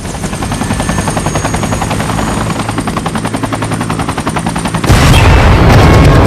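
A loud helicopter's rotor chops in a rapid, steady pulse, then a sudden heavy blast of noise takes over near the end.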